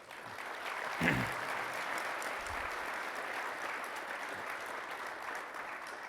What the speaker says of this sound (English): would you please join me in a round of applause for our 3 amazing panelists?